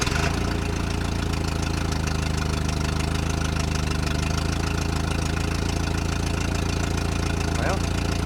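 A Ford Fiesta's engine, started for the first time in 17 years, idles steadily while warming up, with a constant low rumble and a uniform mechanical drone throughout.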